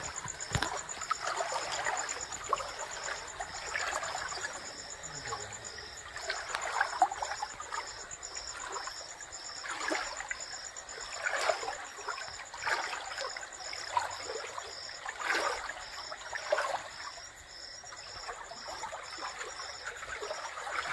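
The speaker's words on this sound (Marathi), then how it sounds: "पाणी आमच्या ओढ्यातलं" A small stream flows steadily, its water trickling and burbling up close, with a thin, constant insect buzz running over it throughout.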